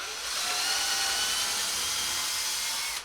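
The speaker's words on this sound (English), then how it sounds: "So let's go ahead and drill a couple of holes." A power drill whines steadily as it bores holes into wooden model-railway benchwork, one continuous high-pitched run that holds at an even level throughout, then cuts off abruptly at the end, with no voices.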